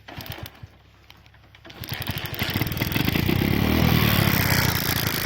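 A motorcycle with an improvised jugaad fix to its plug current supply is kicked over with a few mechanical clunks, then the engine catches and settles into a loud, steady close-up running rumble.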